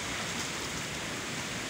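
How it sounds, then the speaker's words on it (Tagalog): Heavy rain pours over rural farmland and rice paddies, a dense, even roar of water with no breaks, loud and close. "Ayaw nang tumigil ng ulan."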